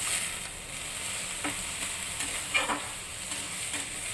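Boiled chickpeas and potato are stirred and sautéed with spices for Bengali ghugni, giving a soft steady sizzle in the pan with a few scraping stirs of a spoon.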